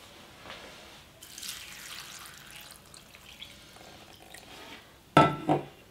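Warm water is poured over 15 g of boiled-and-dried gondre greens to soak them. Quiet handling noise comes first, then a short, close, splashy pour and dripping near the end.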